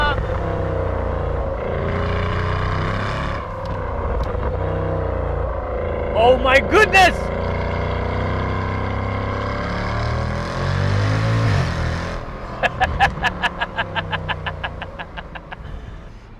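A Mercedes-Benz CL63 AMG with a 7-speed gearbox, driven hard right beside a wall, gives a rising engine roar with short sharp bursts, while a voice exclaims over it.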